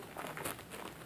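Plastic shrink wrap crinkles faintly and briefly as it is peeled off a Mighty No. 9 game box, a soft, close rustle with no talking.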